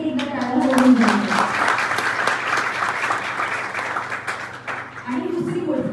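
A college audience at a gathering breaks into sustained applause for the teachers and management, a dense wash of clapping lasting several seconds before a voice returns at the end.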